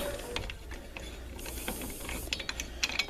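Lug nuts being spun and tightened onto a wheel adapter for a 20-inch rim, heard as a steady clicking ratchet-like whir with small metallic ticks and taps near the end, close by.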